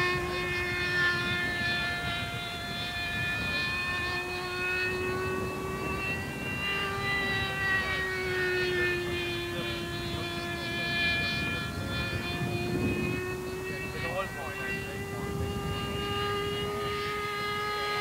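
A radio-controlled ducted fan model jet powered by an OS-46 with a Thorjet unit screams past at a 1988 fly-in in Genk, Belgium, its high-revving whine rising and falling in pitch as it passes repeatedly against background noise.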